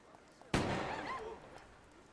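A single loud gunshot from the video game Yakuza 4 cracks sharply, followed by a decaying reverberant tail with other game sounds underneath.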